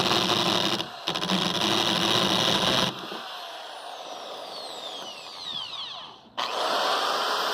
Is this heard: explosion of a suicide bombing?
no